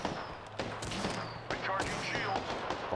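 Intermittent enemy gunfire and impacts in an Apex Legends-style shooter video game, moderately loud bursts over game effects, with voices chatting throughout.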